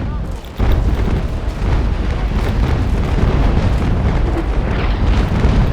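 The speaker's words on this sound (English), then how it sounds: "He's going to fire a broadside." Ship cannons firing a broadside in a naval battle video game, a sudden heavy boom followed by sustained rumbling blasts and crackling that fill the rest of the moment, loud and dense with no speech.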